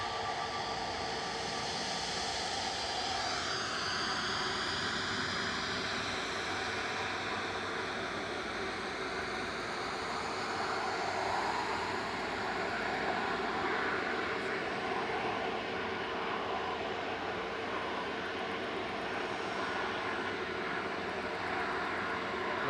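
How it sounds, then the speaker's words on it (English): An ATR 72-600 turboprop touches down at Manchester Airport in the background, a distant, steady engine drone with a tonal whine that shifts pitch early on, fairly faint and without talk. "We're going to touch down there in the background. Coming in from the Isle of Man, that's ATR 72600 GLMTF, flight 693."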